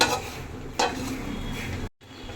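A lid goes onto a pot of taro greens boiling with a little salt, giving a brief clatter over steady simmering and kitchen background noise.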